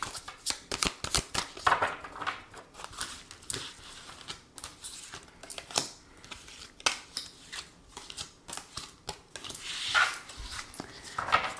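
Tarot cards being shuffled for a reading, with repeated soft riffles and slaps at close range, irregular and fairly quiet, with no talking.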